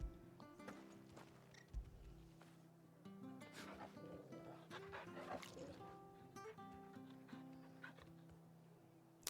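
A dog being petted in the Final Fantasy 16 video game, with soft whimpers, yips and panting over a quiet background of game music.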